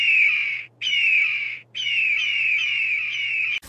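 A man imitates an eagle's screech with his voice, giving three loud, close, sustained shrieks separated by brief gaps, with a short click at the end.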